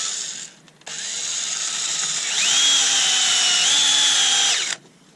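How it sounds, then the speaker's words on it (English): A power drill whirs steadily, its pitch rising as it bites into maple wood for a woodworm screw on a lathe bowl blank, running continuously for several seconds close by before stopping. "let's just quickly drill myself a hole for my woodworm screw"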